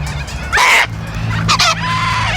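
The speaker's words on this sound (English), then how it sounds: "Come on, little Corella, show these cockatoos who's boss." Outdoors, a little corella and cockatoos give two loud, harsh screeching calls about a second apart, with a fainter squawk trailing after.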